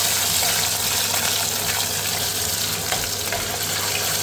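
Potatoes fry with curry leaves in hot oil for a white cabbage dish, a loud, dense, continuous sizzle close by, steady throughout with no speech.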